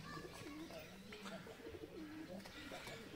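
Several breeding pigeons, mostly kept confined, coo softly in overlapping phrases over a steady noisy background, faint and continuous through the short stretch.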